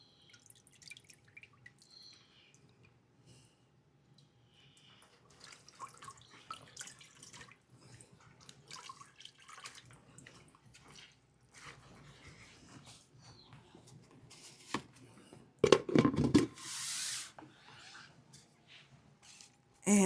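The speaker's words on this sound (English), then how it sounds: "So I'm going to bring that out and squeeze out the excess soda ash." Fabric soaked in soda ash solution is lifted out and squeezed, giving dripping and splashing water that grows into a louder burst of pouring near the end, close by, with a dog whimpering faintly in the background.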